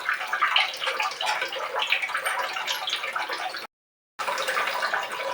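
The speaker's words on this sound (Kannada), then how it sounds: "ನೀರು ಕಾದಿದೆ." Water heating in a pot for green pulao gives a steady, close bubbling and gurgling wash that runs on continuously, broken by a brief cut to silence near the end.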